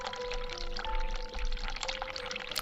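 Hot water runs from a sink tap in the video game The Cat Lady, a steady splashing pour that lasts a few seconds. A faint tonal hum sits underneath and no voices are heard.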